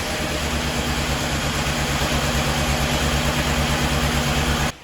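A Chevy Cobalt engine with a freshly repaired cylinder head and burned valve runs at a steady idle, a close, even low rumble with a constant hum that holds throughout and then cuts off.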